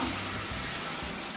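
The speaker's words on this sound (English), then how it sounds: "All right, Jenny, fill the bucket up with water in the tub." Water runs from a bathtub faucet into a bucket, a steady broadband splashing rush that stays even throughout the short moment, with no voices.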